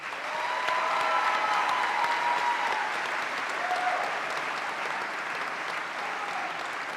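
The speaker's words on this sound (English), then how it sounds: "So could you give them again a big, big clap?" Warm, sustained applause fills a hall at a medical school graduation conferring ceremony in Bahrain, steady for several seconds with a few faint cheers or whistles above it.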